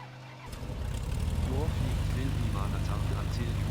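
Right engine of a BN-2 Islander turning over and catching in Microsoft Flight Simulator 2020, a low propeller drone swelling after about half a second and holding steady and loud, with someone talking over it.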